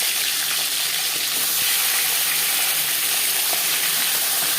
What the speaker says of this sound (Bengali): তিন চার চামচ রিফাইন্ড অয়েল গরম করে নিয়েছি এবার দিয়ে দেবো ম্যারিনেট করে রাখা মাছের মাথা